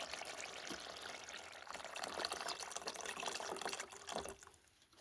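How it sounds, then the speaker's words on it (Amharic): Water pours into a cooking pot to be boiled for Ethiopian shiro stew, a steady splashing fill that runs for several seconds and tapers off near the end, with no talking. "ትንሽ ውሃ ይፈላ አደርጋታለሁ።"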